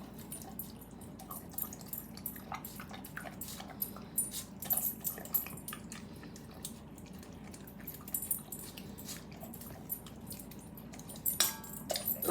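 A dog eating homemade food from a bowl: irregular wet lapping and chewing with small clinks against the dish, close and fairly quiet over a steady room hum.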